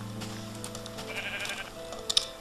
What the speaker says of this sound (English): I'm not going to grab these sheep because I need them all for another project